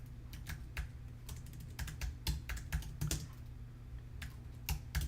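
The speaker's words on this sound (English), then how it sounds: "God, is my typing horrible." Rapid, uneven typing on a computer keyboard, close and clear, with a steady low hum underneath and no voices.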